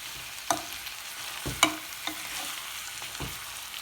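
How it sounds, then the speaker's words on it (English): Curry stirred in a pan while it fries, a steady low sizzle broken by several distinct scraping clacks of the spoon against the pan at irregular intervals, close and alone without voices. "Give it a stir every now and again just to make sure it doesn't catch our pan."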